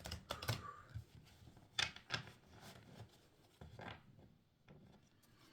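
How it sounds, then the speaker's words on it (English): Tarot cards shuffled by hand in a few short bursts of papery riffling and rubbing, close and fairly quiet, with soft pauses between. "Let me just do a bit more shuffling, and then because these aren't shuffled right."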